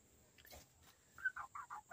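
Faint background hum, then a quick series of four short, rhythmic clucks from an Easter Egger rooster nearby.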